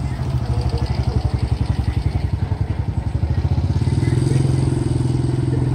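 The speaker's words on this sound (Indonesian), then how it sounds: "Tapi perlu dicoba lo motor ini." A motorcycle engine runs close by during a practical riding test for a driving licence at a police station in Cilacap, a loud, rapid, steady putter that builds slightly as it revs.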